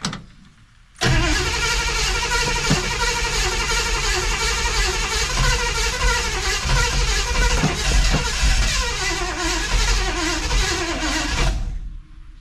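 A 1963 Chevrolet Impala engine with a bigger ignition coil and a weak battery turns over and runs roughly, loud and close, with a steady rumbling drone broken by uneven sputters, then cuts off abruptly.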